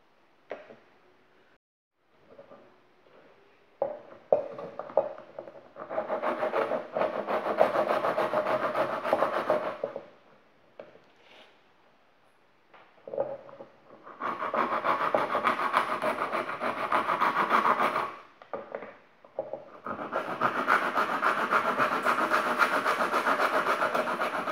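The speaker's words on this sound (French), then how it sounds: "Donc j'ai trouvé une lime à bois. On va essayer avec ça." Wood rasp filing down a plastic Glock 17 holster to fit a Glock 19 or 26, rough scraping strokes in several long bursts separated by short pauses, close and fairly loud, no talking.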